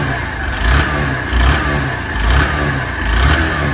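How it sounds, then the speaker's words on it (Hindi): Close up, the small single-cylinder engine of a 2023 Honda Shine 100 motorcycle is blipped four times in a regular rhythm, each short rev swelling over a steady putter, with no voices. "ये है इंजन साउंड"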